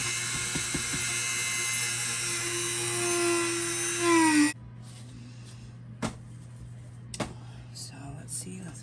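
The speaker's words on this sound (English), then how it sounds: "So I'm gonna create a little hole using my Dremel here." A Dremel rotary tool drilling a small hole in a piece of driftwood whines at a high steady pitch for about four and a half seconds, then cuts off abruptly, followed by faint handling clicks and taps.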